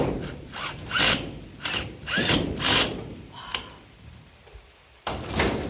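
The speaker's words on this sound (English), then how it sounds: "You wanted the power of the screw gun" A screw gun drives screws into a metal shed under construction, giving several short whirring bursts with pauses between, loud and close, rattling against the thin sheet metal.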